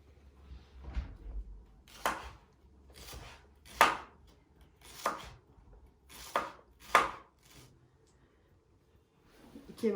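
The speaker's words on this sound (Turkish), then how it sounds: "Yeşilliklerimizi de doğrayacağım." Knife chopping parsley and other greens on a board, about eight sharp, fairly regular strikes spaced roughly a second apart, close and distinct against a quiet background.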